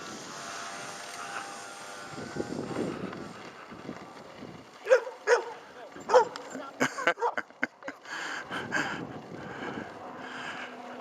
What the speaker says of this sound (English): the barking dogs